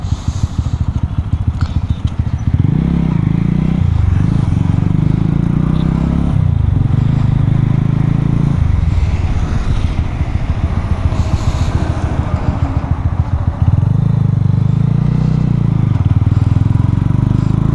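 A GPX Demon motorcycle rides along an open road, its engine loud and close as it rises and falls in pitch through gear changes, with steady wind rush throughout.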